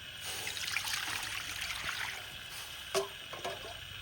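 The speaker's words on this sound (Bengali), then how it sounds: "কড়াইতে পানি দেব" Water trickles and splashes steadily into a wok, a continuous close pour with a brief louder splash near the end and no talking.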